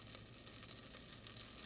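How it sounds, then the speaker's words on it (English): Four tablespoons of butter sizzling in a pan on the stove over medium heat, a steady faint hiss and crackle with no pauses. "I am going to add my 4 tablespoons of butter. You can hear that sizzling a little bit."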